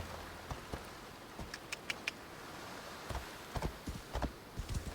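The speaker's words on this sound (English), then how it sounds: "Come on, horse. Behave." Horse hooves clip-clop at an uneven pace in the Assassin's Creed Odyssey video game, coming in short bursts of sharp, fairly close hits over a low background, with a bright chime-like tone near the middle.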